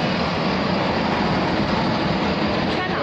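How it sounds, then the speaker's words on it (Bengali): A small diesel-operated GWR train engine rumbles steadily and loudly, a dense unbroken roar of engine and rolling noise filling the whole stretch without a break. "আওয়াজ হচ্ছে ডিজেলের, মানে এটা পুরো ডিজেল অপারেটেড ইঞ্জিন"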